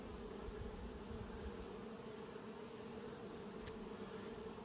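Honey bees hum around an open hive at an apiary in Nymboida while honey supers are added, a soft, continuous buzz with no break.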